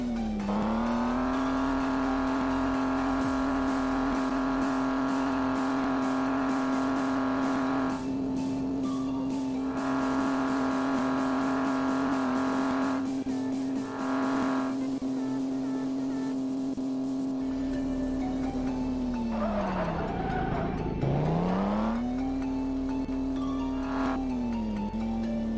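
Bus engine drones steadily in the Offroad Bus Drive 3D mobile simulator, a sustained whirring tone that dips and rises near the end as the vehicle slows and pulls away again, with no talking.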